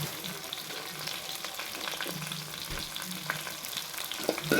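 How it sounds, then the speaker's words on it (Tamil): Ginger and curry leaves sautéing in a pan for tomato kurma, a steady close frying sizzle with occasional stirring clicks and no talking. "நல்லா வதக்கிடுங்க."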